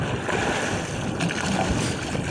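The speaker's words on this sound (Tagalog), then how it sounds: "Malakas kasi ang hangin. Malakas pa nga ngayon, hanggang ngayon. Walang tigil ang hangin." Strong, unceasing wind at sea sweeps around a boat far offshore, a constant broadband rush with water and hull noise beneath it, steady and close throughout.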